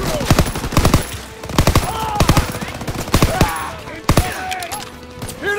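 Rapid bursts of machine-gun and rifle fire crack out in the Call of Duty WW2 battle at Caen, France, in July 1944, loud, close and repeated in clustered volleys with brief gaps between them.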